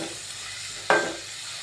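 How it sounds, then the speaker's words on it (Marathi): Finely chopped onions sauté in a pan for an Agri Koli style oyster masala, a soft steady sizzle broken by one sharp stirring scrape or clink, close and without speech. "कांदा हा लालसर होईपर्यंत परतून घेऊया"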